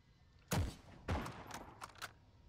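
A captured gun fires in Heroes and Generals: two heavy close shots ring out, then a quicker trio of lighter reports, all sharp and punchy with no talking.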